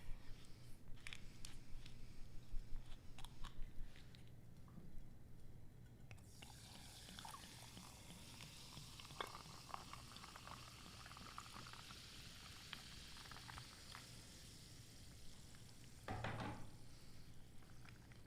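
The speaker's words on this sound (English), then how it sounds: "And then I'm going to put San Pellegrino in that." San Pellegrino sparkling water poured into a glass with ice and mint gives a soft fizzing pour, then a steady, faint crackle of bubbles close by, with brief clinks near the end.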